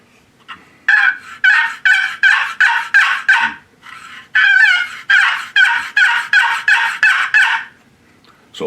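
Loud, raspy turkey yelps repeated in two quick rhythmic series, close and clear against a quiet background.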